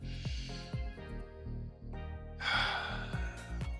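A deep inhale during a HIIT workout breathing exercise: one long, audible breath drawn in near the microphone, under soft background music.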